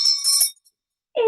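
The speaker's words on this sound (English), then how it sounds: "Let's ring the bell" A single bell rung brightly in a classroom, a sustained ringing tone with high shimmering overtones that fades over about half a second, followed by a short pause and then a voice starting to speak.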